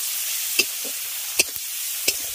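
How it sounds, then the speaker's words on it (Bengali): Spices and chopped carrots sauté in a pan for masala pasta, a steady close sizzle broken by three distinct scraping stirs about a second apart, with no one talking. "এবার সমস্ত কিছুকে ভালো করে কষিয়ে নিলাম।"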